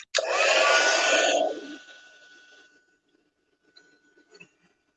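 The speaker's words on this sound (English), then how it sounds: "So now we are done with our heat embossing." A heat embossing tool blows hot air over a copper-embossed pumpkin card: a loud, steady whoosh for about a second and a half that then cuts off, leaving near silence with a few faint taps.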